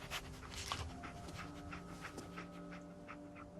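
Dogmeat, the dog companion in Fallout 4, panting steadily and close, a quick rhythmic breathing that runs through the whole moment over a low game ambience with faint tones.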